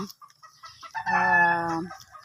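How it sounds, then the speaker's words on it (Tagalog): Pet backyard chickens at feeding time, a few short clucks followed by one drawn-out, loud crowing call at close range, then scattered clucking again. "Magpapakain ako ng aming alagang manok"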